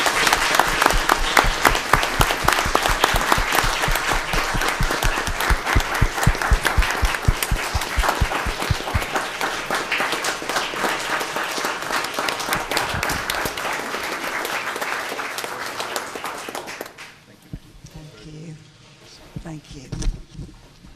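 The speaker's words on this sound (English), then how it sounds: "Let's give them a round of applause." A city council chamber audience gives a long, steady round of applause, dense clapping that fills the room for most of the stretch before fading into quieter room noise with a few scattered sounds.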